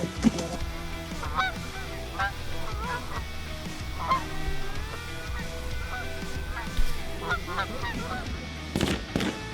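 Geese honk repeatedly during a morning goose hunt, a busy flock of overlapping calls at mid distance over a steady outdoor background, with some quiet talk and a louder burst near the end.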